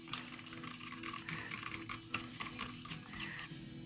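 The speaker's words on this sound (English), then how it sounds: "So get a stir stick. All right. I'm gonna stir up," Stir stick working through a can of Super Paint interior satin latex deep base, a steady wet scraping and swirling that runs continuously, close and fairly loud, with no talking.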